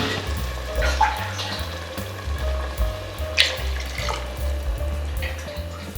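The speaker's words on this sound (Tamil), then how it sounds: "நம்ம ஒரு 2 கிளாஸ் தண்ணி ஊற்றிடலாம்." Water pours into a cooking pot while South Indian paya is being made, a steady splashing gush over a low rumbling hum, close and fairly loud, with brief clinks.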